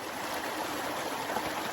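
Mountain stream water rushing and trickling close by as a water supply is topped up, a steady broadband wash at moderate level with no talking.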